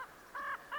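Crows caw outdoors, two harsh calls a short distance away with the start of a third at the end, each a brief rasping cry over quiet background.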